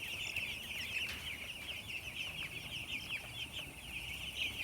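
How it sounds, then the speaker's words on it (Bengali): Eleven-day-old broiler chickens in a shed with spoiled bedding make a steady, dense chorus of high peeping and soft clucking, a continuous crowd sound at moderate distance with no speech. "এখানে বেশ কয়েকটা মুরগি হাঁপাচ্ছে।"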